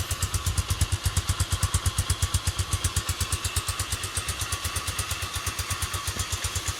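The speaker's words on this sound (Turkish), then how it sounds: "Rölantideki sesi böyle" An RKS RK 125 motorcycle engine idles steadily, its low, even chugging pulses repeating rapidly and evenly throughout, close by and fairly loud.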